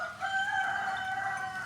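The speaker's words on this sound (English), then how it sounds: "Oh, the chicken also here." A rooster on a farm with grazing cows crows once, loud and close, with a long sustained call.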